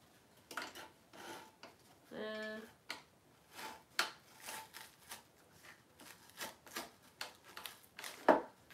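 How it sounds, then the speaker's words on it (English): A paper trimmer blade slides through a glued fabric tag, making a quiet run of light clicks and scrapes with one brief squeak near the start. "let me try this trimmer"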